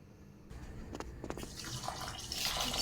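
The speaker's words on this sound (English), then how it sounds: "I like to wash my rice at least 3 times until the water is quite clear." Water running and splashing as rice is rinsed in a pot for a Kenyan rice and githeri meal, with scattered grainy swishes and a steady rising gush toward the end.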